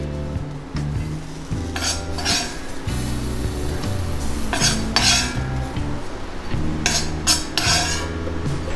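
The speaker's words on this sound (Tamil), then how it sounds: "இது வந்து நம்ம ஒரு பாத்திரத்தில் வந்து ட்ரான்ஸ்ஃபர் பண்ணிக்கலாம்." Fried okra (lady's finger poriyal) gets scooped from a pan into a serving vessel, with repeated close scraping and clinking of a metal spoon against the pots in an uneven rhythm, no talk.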